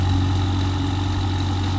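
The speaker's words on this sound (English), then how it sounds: "I can definitely hear the noise of the SuperSprint exhaust" A BMW M5 with Stage 3 ECU tuning, downpipes and a SuperSprint exhaust runs loud and close. It gives a deep, steady rumble with a strong low hum.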